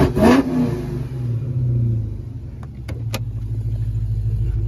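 A Dodge Charger SRT Hellcat with a stage 3 setup revs up in a loud opening burst, then drops to a deep burbling idle broken by a couple of sharp clicks.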